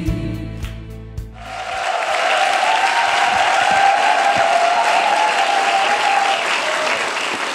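After a brief few seconds of other sound, a church audience bursts into loud, sustained applause that stays dense and even, with a faint hint of cheering mixed in.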